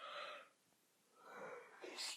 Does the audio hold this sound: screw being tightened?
no